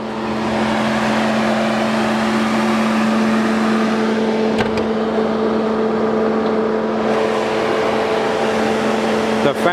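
The engine cooling fan on a 2017 Chevy Tahoe highway patrol vehicle with a 5.3 liter engine runs with a loud, steady whirring roar and a constant tonal hum, holding on for nearly ten seconds.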